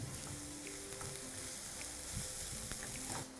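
Capsicum tossed over a high flame in a pan for a street-style paneer roll, sizzling loudly and steadily throughout with faint stirring clicks, no voices.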